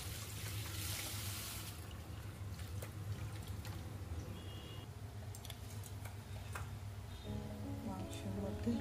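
Tap water runs and splashes as meat is rinsed under it in a home kitchen, a steady hiss with small clatters and a voice faintly in the background.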